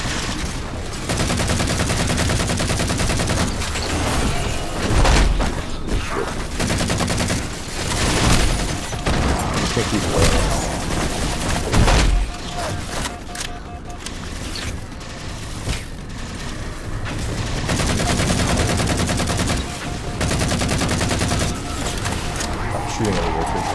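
Dense in-game gunfire from Halo 4 plays as sustained bursts of automatic shots and booming blasts with mechanical clatter, loud and nearly continuous, with players talking over it.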